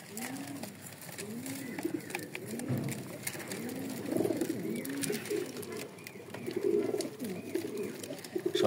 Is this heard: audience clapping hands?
no